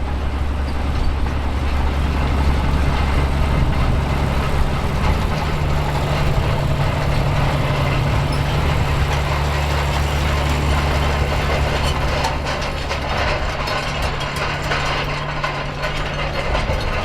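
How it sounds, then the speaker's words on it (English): A John Deere 3640 turbo tractor on flotation tyres works in sixth gear at around 1400 RPM while pulling a roll over wheat, giving a loud, steady low exhaust burble with clattering mechanical rattles from the implement. "working in 6th gear at around 1400 RPM, giving a forward speed of 9 km per hour and a pleasing burble from the exhaust"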